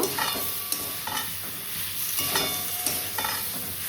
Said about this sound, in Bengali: এবার এই সেদ্ধ করে রাখা সয়াবিনটা দিয়ে দেব। মশলার সাথে কষিয়ে নিয়ে